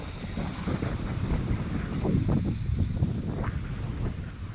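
Strong gusty wind buffets the microphone on a hike in Lassen Volcanic National Park, California, a dense continuous roar with low rumbling thumps and no talking.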